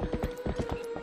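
Rapid, rhythmic clip-clop of horse hooves at a gallop in Twilight Princess HD, about nine crisp close hoofbeats in a second over a faint steady tone.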